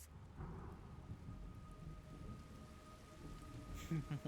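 Rain falling steadily in the video game Metal Gear Solid Delta: Snake Eater, a dense, even hiss with low rumbling underneath and a few brief tonal game sounds near the end.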